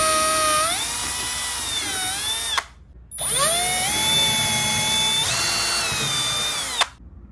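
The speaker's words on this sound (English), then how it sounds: "I'm just pre-drilling some holes so that way it makes it a lot easier for me to line it up" A power drill pre-drills holes in an oak side table in two close, loud bursts, each whining as it spins up to speed before stopping, with a short pause between them.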